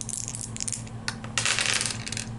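Two dice re-rolled during a Slaughterville board game, Jack the Ripper scenario, clattering and rattling across the table in quick, loud bursts that fade to a light scatter.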